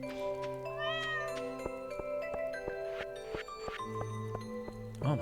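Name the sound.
cat meowing in Stardew Valley video game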